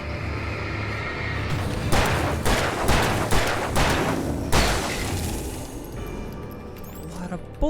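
Rapid gunfire in Alan Wake Remastered, a burst of several loud close shots in quick succession over a rumbling game soundscape, with someone talking around it.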